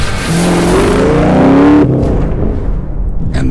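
A Dodge SRT Viper's engine revs loud and close, climbing in pitch through a sustained roar before dropping off sharply, leaving a lower rumble as it fades away.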